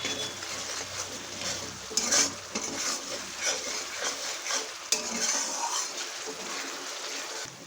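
Spices of cumin and chili powder are stirred through hot oil in a pan for a fish curry with cauliflower and green tomato, a steady sizzle broken by scraping strokes of a spoon and a few sharp clinks against the metal.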